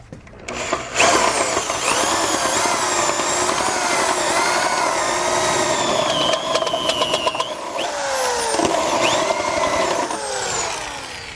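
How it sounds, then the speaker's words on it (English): A step drill bit bores out a hole in the frame rail of a 2014 Buick Enclave while a Blue Ox base plate is fitted, giving a loud, steady whining grind that rises and shifts in pitch and pauses briefly partway through. "We're going to use a step style drill bit to get it enlarged."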